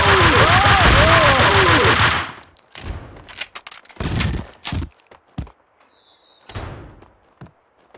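Rapid automatic gunfire from the video game Max Payne 2 rattles loudly for about two seconds, followed by scattered single shots, thuds and impacts at lower level.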